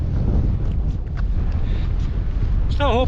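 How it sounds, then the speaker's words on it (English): Wind gusts across a Scottish mountain hill shoulder on Carn an Fhidhleir, a steady, close buffeting roar on the microphone throughout, with a brief thin whistling tone near the end. "Going to be a bit breezy now as well"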